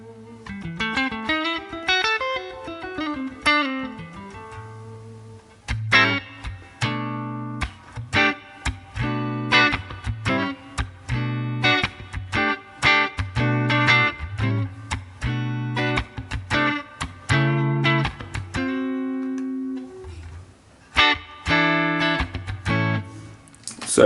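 Electric guitar run through a Line 6 Helix factory preset with spring reverb, played alone as a rhythmic run of chords and short picked notes with a brief pause midway.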